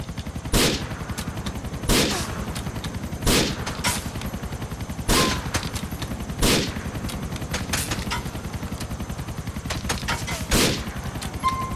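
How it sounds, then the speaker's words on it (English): Gunfire in GTA 4 multiplayer: loud, sharp shots crack out in a loose, repeating rhythm roughly every second or so, with lighter pops in between, over a constant game background. "He shot me, so I shot him."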